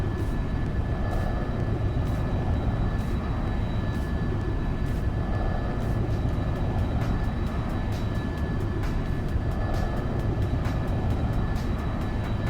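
Steady, loud jet roar of an SR-71 Blackbird in flight in the X-Plane 11 flight simulator, a dense continuous engine drone with faint periodic clicks running throughout, no voices.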